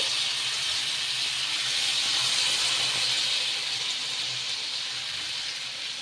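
Rava dosa batter sizzles on a pan heated on high, a loud, steady broadband hiss that continues evenly throughout with no other sounds.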